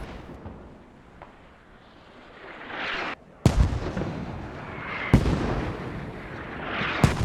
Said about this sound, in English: Mortars, MEA mortars coming in. Landing right on target.